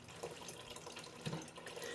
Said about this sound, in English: So once I fill this up with water